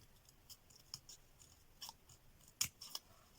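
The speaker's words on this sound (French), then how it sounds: "là, je peux découper le surplus" Scissors cutting paper, several quick snips at irregular intervals with one sharper cut, close and quiet against a faint background, no talk.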